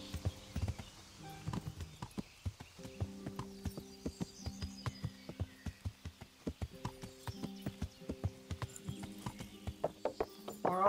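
Horse hooves in the video game Kingdom Come: Deliverance, a steady run of rhythmic clip-clop footfalls while riding. The beats are evenly spaced and moderately loud, with a brief whinny and a soft tonal background underneath.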